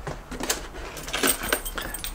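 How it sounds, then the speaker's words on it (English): A bunch of keys jangles close by while someone heads out with the motorcycles loaded in the back, giving a continuous metallic rattle with a few sharper clinks. "I guess I need keys."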